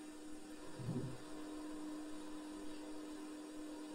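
A rotor spinning up and running with a steady low hum, joined by a soft broadband whir; a brief louder rumble near the start, then a constant, fairly quiet drone with no talk.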